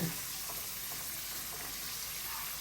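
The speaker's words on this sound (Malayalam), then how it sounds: "ഞാൻ നമ്മുടെ ഫ്രഞ്ച് ഫ്രൈസ് ഇവിടെ കിടന്ന് ഇങ്ങനെ ഫ്രൈ ആയിക്കൊണ്ടിരിക്കുകയാണ്" Potato French fries frying in hot oil give a steady, fairly quiet hiss and crackle of sizzling that runs unbroken throughout.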